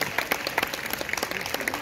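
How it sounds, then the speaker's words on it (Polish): Short burst of applause at a dance competition, a pasodoble semifinal in Suchy Las in 2019, with dense clapping from the audience, fairly quiet and distant, with a murmur of voices underneath. "Wielkie brawa"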